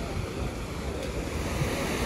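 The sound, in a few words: river flowing by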